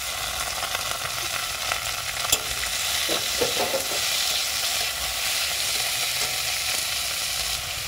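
Chopped onion and tomato hit a hot pan and fry with a loud, dense sizzle, broken by a few stirring scrapes, with no talking.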